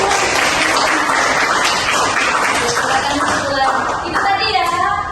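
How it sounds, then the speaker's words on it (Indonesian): Applause from a classroom of schoolchildren fills the room as a loud, dense, continuous clatter of clapping hands, with children's voices chattering underneath. "tepuk tangan dulu."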